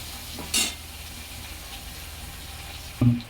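Quartered medium eggplant pieces fry in oil with a soft, steady sizzle, broken by two brief clatters of a utensil against the pan, close and without talking.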